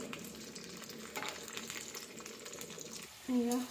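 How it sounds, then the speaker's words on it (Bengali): Onions fry in a pan with a constant close sizzle and intermittent stirring, and a brief louder tonal sound near the end. "আমার পেঁয়াজটা লাল হয়ে গেছে ভাজা হয়ে গেছে"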